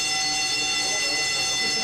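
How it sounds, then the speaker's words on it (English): A fire alarm goes off during a live music-television interview, a loud, steady electronic tone with sharp high harmonics that sounds continuously and evenly the whole time, filling the room. "That is a fire alarm."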